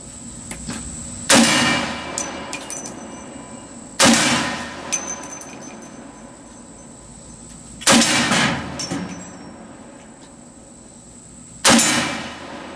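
A CMMG .458 rifle fires four loud, widely spaced shots, and each is followed by the ringing clang of a hit steel target.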